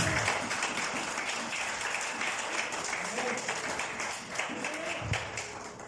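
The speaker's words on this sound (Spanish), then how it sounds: "Denle un aplauso al Señor" Crowd applause fills a church service, a steady wash of many hands clapping at moderate volume with some voices mixed in.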